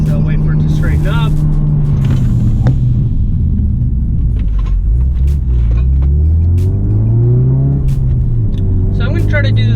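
A Ford Focus RS fitted with carbon Geomet brakes drives at speed, its engine droning loud and near and rising in pitch as it accelerates, then easing off as it slows, with a voice talking over it.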